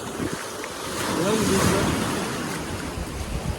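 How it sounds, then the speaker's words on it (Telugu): Ocean waves washing onto Shivarajpur beach in Gujarat, a continuous surf roar swelling in the middle, mixed with wind buffeting the microphone. "అలలు"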